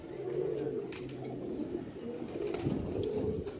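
Pigeons coo softly and repeatedly nearby, low throaty murmurs over a quiet background with a few faint chirps.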